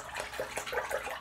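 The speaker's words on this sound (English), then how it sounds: "I'm gonna rinse up, clean up the sink" Water runs from a bathroom sink tap as a face is rinsed after a shave, a steady close splashing flow with small gurgles and no voices.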